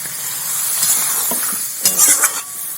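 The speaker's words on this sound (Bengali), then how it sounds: "মশলাটা কষানো হয়ে গেছে চারটে দিন এবার একটুখানি সামান্য জল দিয়ে দেবো" Spice masala for a thin rohu fish and cauliflower curry sizzles and spatters loudly in a hot pan as a little water goes in, with stirring scrapes and a sharper burst of hiss near the end.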